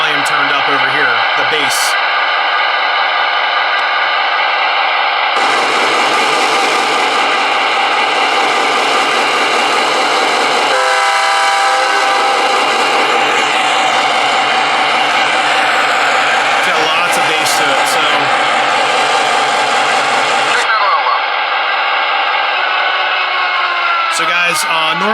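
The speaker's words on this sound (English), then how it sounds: "this is the horn with just the MTH speaker. Then here is with our volume turned up over here, the bass." A diesel horn from an O scale model locomotive's Bluetooth sound module, loud sustained tonal blasts with a few short toots, then a longer fuller blast with added bass, stopping and restarting.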